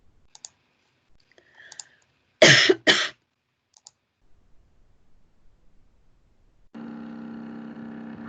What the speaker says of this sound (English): I could see you coughing